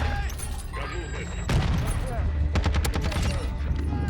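HEMLOCK rifle gunfire in Modern Warfare, rapid bursts of loud, close shots rattling over game sounds, with a voice talking over the action.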